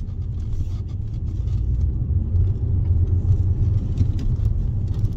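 A Ford Mondeo 2.5 turbo Ghia with 220 horsepower, driven through a roundabout in sport mode, produces a steady, loud, low cabin rumble of engine and road noise without a break or any talking.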